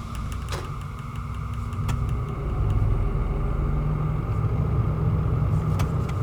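Locomotive in Derail Valley powering up as the brake is released: a steady low engine rumble that swells and grows louder partway through, with a few faint clicks and a thin high whine over it.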